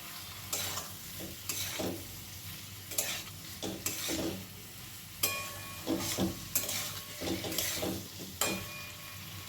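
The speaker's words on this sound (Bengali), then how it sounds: "এর মধ্যে দিয়ে দেব ডিমের যে আপ্পেগুলো তৈরি করে রেখেছিলাম সেগুলো হালকা হাতে মিশিয়ে নেব" Egg appe, small egg dumplings, being stirred into potato and egg chochori frying in a pan. Soft, steady sizzling runs throughout beneath repeated gentle scraping strokes of a spatula, with no voices.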